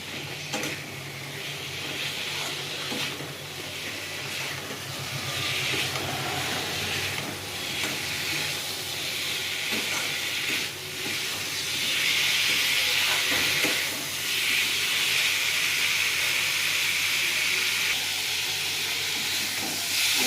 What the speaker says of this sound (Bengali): এবার আমি সবজিগুলো দিয়ে দেবো। সবজি বলতে ঢেঁড়স আর আলু। ভালো করে মশলার সঙ্গে কষে নেবো।